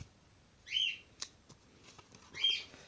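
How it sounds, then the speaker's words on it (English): Birds calling from outside, two clear whistled chirps about a second and a half apart, moderately loud above a quiet room with a few faint clicks. "I wish my birds would be quiet, but they keep hearing birds outside."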